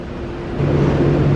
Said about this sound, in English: all the cars are loud today trying to keep cool